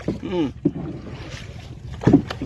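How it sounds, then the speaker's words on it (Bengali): Boat crossing the Bishkhali River, wind buffeting the microphone while people talk in short bursts. "আমরা আপনাদেরকে দেখাবো কিভাবে নৌকা দিয়ে এপার থেকে ওপারে যেতে হয়"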